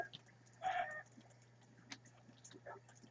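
A turkey or chicken clucks in a video game, one louder squawk early on followed by faint scattered clucks, with no one speaking.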